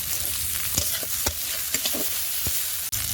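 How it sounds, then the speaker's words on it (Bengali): Onion, garlic, green chilli and a ground ginger-cumin-chilli spice paste fry in hot oil for a fish curry, a steady close sizzle broken by a few sharp stirring clicks and scrapes, with no voices. "মশলাগুলো ভাজা ভাজা হয়ে গেছে"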